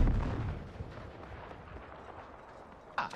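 Sniper fire in the video game Star Citizen: a heavy, booming shot opens, then fades into a rumbling tail, and a second sharp crack lands near the end.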